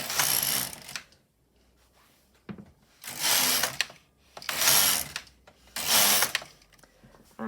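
The carriage of an LK150 knitting machine is pushed back and forth across the needles in four loud rasping, clattering passes separated by short pauses, each stroke lasting around a second.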